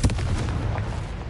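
A Confringo blasting spell explodes in Hogwarts Legacy: a loud, sharp blast opens into a dense, booming rumble that carries on steadily to the end, with no other sound rising above it.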